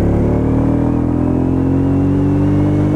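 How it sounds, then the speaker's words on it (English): A Royal Enfield Meteor 350 motorcycle accelerates at wide-open throttle, its single-cylinder engine note climbing steadily in pitch and staying loud and close throughout, with no talking. "I'm opening the throttle wide there so you can see the acceleration."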